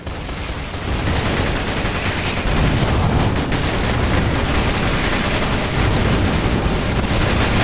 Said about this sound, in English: They're shooting at the commander.